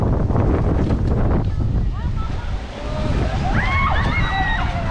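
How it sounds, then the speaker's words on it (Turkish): Strong wind buffets the microphone outdoors in a small town square, a loud, rumbling roar that dips briefly near the middle before surging back, with faint background noises over it. "Arkadaşlar bugün çok rüzgar var."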